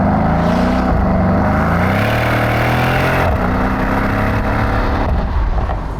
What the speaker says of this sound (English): Let's put our foot down and see what that 580 horsepower can do to 2 tons